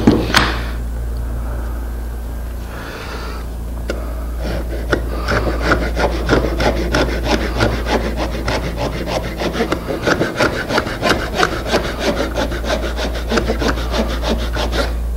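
A hand saw cuts through wood in a woodworking shop while building a hanging cupboard. Quick, even back-and-forth rasping strokes build up after a short quiet stretch and continue close and rhythmic, with no voices.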